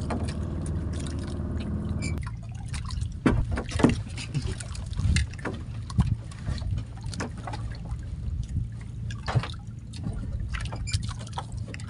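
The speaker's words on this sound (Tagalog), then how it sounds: "may bangka." Water laps and splashes around a small fishing boat, with knocks and sloshing against the hull; a low droning tone at the start stops after two seconds.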